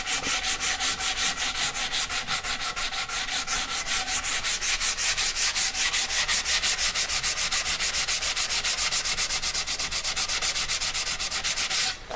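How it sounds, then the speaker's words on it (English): A wooden paddle is sanded by hand with 80 grit sandpaper, fast rhythmic back-and-forth scratchy strokes, loud and close, continuing evenly for about twelve seconds with no voices. "And as I sand now"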